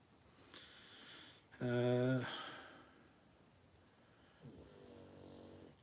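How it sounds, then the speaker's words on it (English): A dog snores indoors, giving one loud rasping snore in the middle and a fainter one near the end against a quiet room. "That's my dog snoring."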